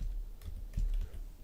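Keys tap briefly on a computer keyboard as an email ID is typed, a few soft clicks over low background rumble, with no voices.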